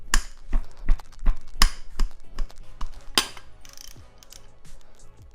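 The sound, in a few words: ratchet wrench removing 14 mm bolt from Integra transmission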